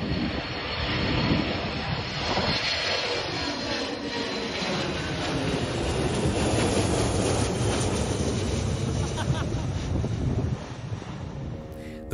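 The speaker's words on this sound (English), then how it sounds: "Here's the KC-135R Stratotanker soaring to the skies before going on an endurance mission across" A KC-135R Stratotanker jet climbs out on takeoff, heard from aboard an A320 as a broad, steady roar mixed with wind rush that holds strong throughout before easing slightly at the end.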